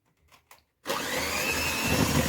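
A handheld electric mixer switches on and beats an egg into cookie dough for Eid sablé biscuits, a steady loud whirring drone that starts abruptly after a few quiet clicks and runs without talk.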